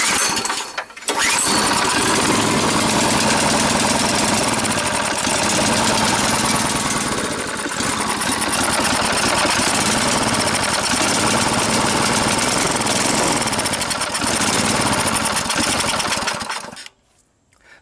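An old log splitter's small gas engine, fitted with a new carburetor and gas tank and running on stale gas, starts and runs loudly and steadily after a cold start, then cuts off near the end.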